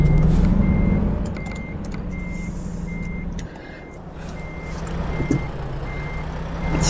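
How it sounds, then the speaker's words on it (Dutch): A big truck in American Truck Simulator reverses with steady, evenly spaced backup beeps over a low engine rumble, with a brief air-brake hiss partway through and no talking. "Het is een super grote vrachtwagen."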